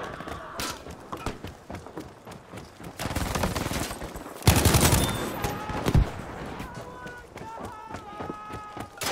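SMG gunfire in the video game Battlefield 5, bursts of rapid shots with one dense, loud volley mid-clip, alongside other battle noise and a player talking over it.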